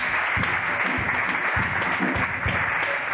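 A church congregation at a Sunday service claps together in dense, continuous applause, near and fairly loud, with faint voices mixed beneath the clapping.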